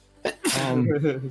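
A single sharp sneeze bursts out close by, followed at once by a voice speaking over a low background hum.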